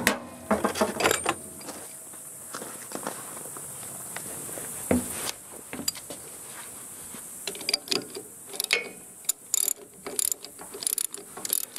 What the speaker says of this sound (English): now it's time for the ratchet